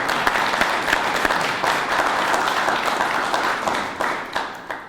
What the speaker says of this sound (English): Y'all can clap for them and clap for them.